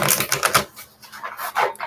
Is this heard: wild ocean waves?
no